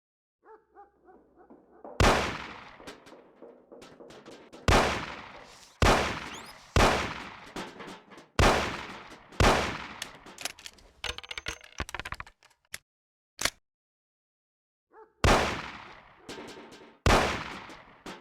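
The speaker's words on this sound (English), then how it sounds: "Shoot the cans off of the table." Gunshots ring out in Mafia: The City of Lost Heaven as cans are shot off a table, about eight loud, sharp reports in uneven bursts, each with a short decaying tail, separated by brief silences.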